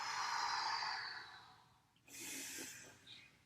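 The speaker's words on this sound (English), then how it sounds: "Let the breath be audible." Audible breathing during a kundalini yoga session: a long, airy exhale that fades out, then a sharp, forceful breath through the nose that tails off, close and clear with nobody talking.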